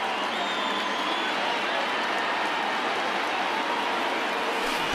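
A huge baseball stadium crowd of over 39,000 roars and cheers in MLB The Show 20, with Dodgers facing the Phillies. The dense crowd noise is steady and loud for the whole stretch, with no clear voices above it.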